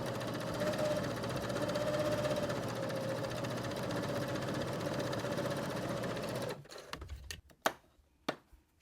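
Sewing machine stitching fabric for a journal cover, a continuous close whirring run for several seconds, then stopping, followed by a few sharp handling clicks and knocks.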